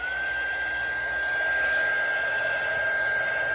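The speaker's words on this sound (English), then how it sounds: "I'm going to use my heat gun." A heat gun blows a constant loud whooshing stream with a steady high whine over a resin-poured platter, uninterrupted and close.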